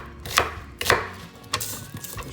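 Knife chops beef chuck steak into big dice on a cutting board for sinigang, four or five firm, close thuds spaced unevenly over a faint background hum.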